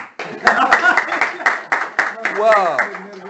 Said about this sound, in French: applaudissons pour le frère encore ici